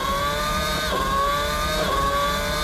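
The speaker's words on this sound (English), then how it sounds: "1962 Grand Prix car." A 1962 Grand Prix racing car on the Nürburgring passes with a steady high-pitched engine whine that dips in pitch partway through and then climbs again, sustained and fairly loud throughout.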